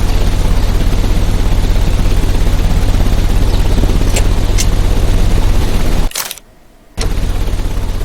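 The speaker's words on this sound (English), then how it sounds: "The engine has started." A heavy engine in a Sherlock Holmes video game drones loud and steady with broadband rumble, briefly cutting out near the end before resuming.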